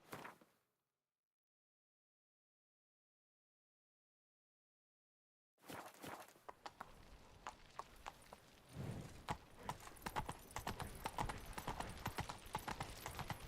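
Roach the horse walks in Witcher 3, hooves clip-clopping in a steady rhythm after a long silence, growing denser and louder toward the end.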